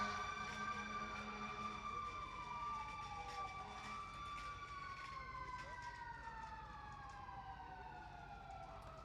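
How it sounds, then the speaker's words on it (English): An ambulance siren wails in the street outside a courthouse, its rising and falling tone drifting at moderate distance over steady traffic noise. "So an ambulance going"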